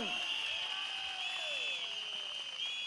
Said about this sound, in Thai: ต้องปรบมือให้เกียรติ คนดีของแผ่นดินครับพี่น้อง